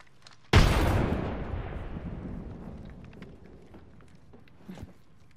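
A frag grenade detonates in Apex Legends with a sudden loud boom that rolls off into a long, slowly fading rumble, followed by a small second thump near the end.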